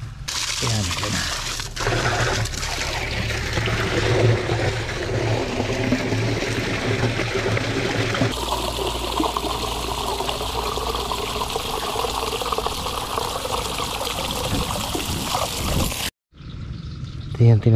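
Water poured by hand into a container during a farm harvest, a steady trickling and splashing that runs near and continuous under a person talking, then cuts off abruptly near the end.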